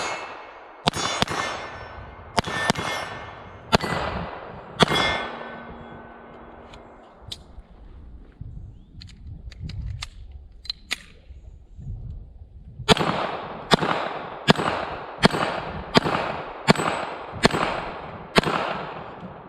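A Makarov IJ70-18A pistol fires sharp, loud shots at steel spinner targets from about seven yards, in two bursts: several evenly spaced reports, a pause with ringing metal and clatter, then a rapid string of about ten shots.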